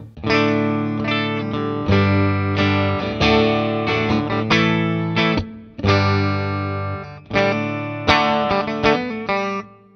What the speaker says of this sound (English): the clean tone right now as it's set sounds like this